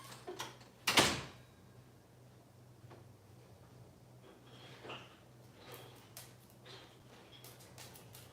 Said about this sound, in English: So when I go in here, I have to close the door.